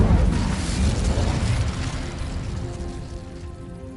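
A fire spell cast in Hogwarts Legacy: a loud whooshing, roaring burst of flame that starts strong and slowly fades over several seconds, with a crackling texture and no voices.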